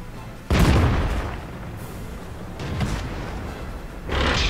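Tank cannon shots in World of Tanks: a loud booming blast opens, a second duller report follows a couple of seconds later, and a third burst comes at the end over steady engine rumble.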